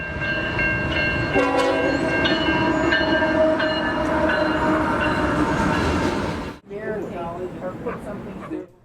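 A freight train rumbles loudly past with steady wheel and engine noise at the Rochelle Railroad Park, horn tones sounding over it, then the roar drops off near the end.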